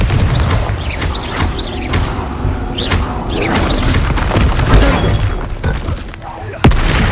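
Confringo spell explosions in Hogwarts Legacy combat, loud repeated booms and crashing impacts layered with voices shouting spells, dense and continuous with a sharp hit near the end.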